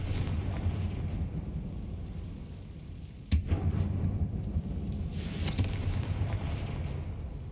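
A Confringo fire spell blast from the video game Hogwarts Legacy lands as one sudden explosive burst, followed by a rumbling tail and later crackling debris over steady game ambience.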